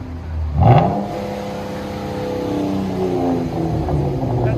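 A 2015 Chrysler 200 S V6 with dual exhaust and a Vibrant bottle resonator revs up sharply, a close, loud burst that climbs and then holds a steady droning rumble near the rev limiter.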